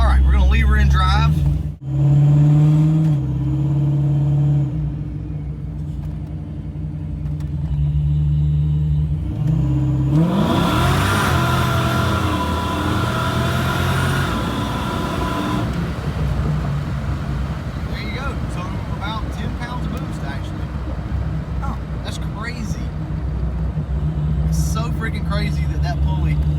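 A car held in drive is floored at full throttle. Its engine drone climbs into a loud, rising roar midway, then settles into a steady, strained hum under ongoing road noise.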